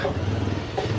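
A 220 motorcycle engine labouring on a hill road in Parbat, Kusma, a close, rough, droning rumble that holds at an even strain for a brief moment.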